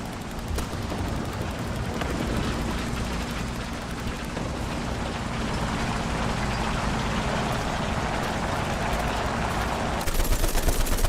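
In War Thunder, machine guns fire at enemy aircraft in sustained bursts of loud, rattling gunfire over rumbling battle noise. The fire grows sharper and more distinct near the end.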